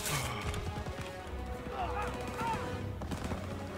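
Gunfire in a World War 2 video game, rapid cracking shots mixed under excited voices talking over the action.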